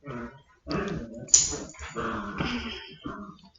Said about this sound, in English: My dogs are playing.